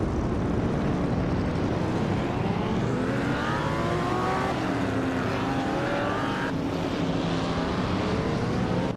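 Vintage street cars racing on the Feldbergring circuit, a steady loud roar of several engines with pitches sweeping up and down as the cars pass close by, continuous throughout.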